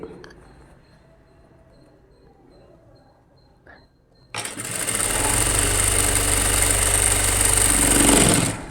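An electric sewing machine stitches an umbrella gown after a quiet pause with a brief knock, then runs loud and continuous for about four seconds with a steady whirring drone before stopping.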